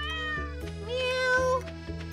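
A Stardew Valley cat lets out a few close, clear meows one after another over soft background game music.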